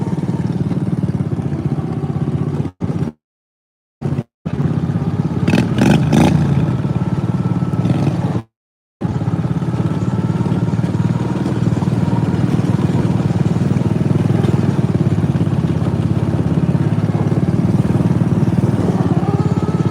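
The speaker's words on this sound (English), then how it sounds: "In case anyone was wondering, this is a Harley muffler." A John Deere riding mower engine runs through a stock Harley muffler, giving a steady, throaty motorcycle-like drone that carries on, apart from a few short dropouts, with faint clatter over it.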